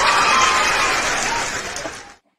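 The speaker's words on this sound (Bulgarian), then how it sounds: "А аплодисменти за дупито на Мариел." Audience clapping and cheering at a live show, a loud dense burst of applause that slowly thins and then cuts off abruptly.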